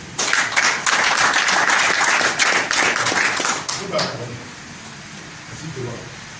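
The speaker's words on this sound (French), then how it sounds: "Acclamez pour Junior, s'il vous plaît." A church congregation claps for Junior during a Sunday service, a few seconds of dense applause from many hands that fades into quieter room sound with voices underneath.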